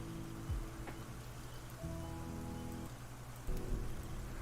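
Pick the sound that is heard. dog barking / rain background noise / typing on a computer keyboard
rain background noise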